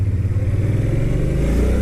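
A 2013 Suzuki Boulevard C50T 805cc cruiser motorcycle engine runs with a loud, low, pulsing rumble that swells slightly toward the end, close by with no talk.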